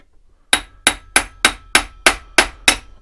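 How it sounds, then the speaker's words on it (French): A small hammer taps the screw head on a Multirex milling machine to free the chuck. After a brief silence, eight sharp, evenly spaced metallic knocks ring out close and loud. "et vous venez tapoter un petit peu sur la tête du vis là"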